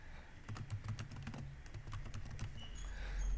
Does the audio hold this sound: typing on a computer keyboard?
yes